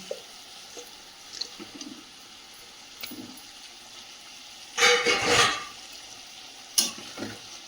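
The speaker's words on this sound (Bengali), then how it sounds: "ঝোলটা ফুটে গেছে, এবার ভেজে রাখা মাছগুলো দিয়ে দেবো।" Fried fish pieces drop into a pot of boiling curry gravy with two bursts of loud sizzling and bubbling, set against a low, steady simmer with scattered small clinks.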